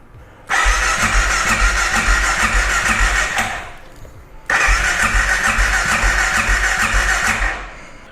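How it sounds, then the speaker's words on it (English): A Honda XR650L motorcycle engine cranks and fires, runs at a steady loud idle for about three seconds, cuts out, then starts again and keeps running. No one speaks over it. "So you can actually start this up and you can hear what it sounds like and see how it runs."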